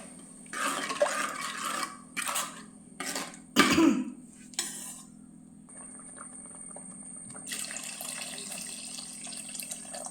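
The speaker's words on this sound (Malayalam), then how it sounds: "പിന്നെ നമുക്ക് ആവശ്യമുള്ള വെള്ളം ചേർക്കാം കേട്ടോ" Water is poured into a pan of fish curry with tamarind water in a home kitchen, splashing in short bursts amid clinks of utensils, followed by a softer steady trickle.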